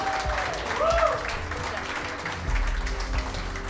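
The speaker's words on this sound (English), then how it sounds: "Round of applause for them" Wedding guests applaud the couple during the speeches, a moderate burst of clapping in a reception hall mixed with crowd murmur and a voice speaking alongside.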